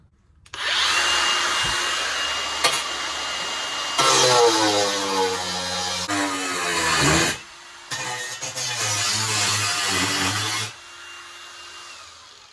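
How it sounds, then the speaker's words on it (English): A loud power tool whirs in several bursts on steel during metalwork on a Squarebody Chevy, starting and stopping with short pauses between runs, its pitch shifting as it works. "Power tools."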